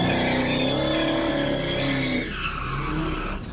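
Dash cam audio of a reckless driver's car as it crashes head-on into a stopped patrol car: loud squealing tires and a straining engine that suddenly drop off, followed by quieter rumbling.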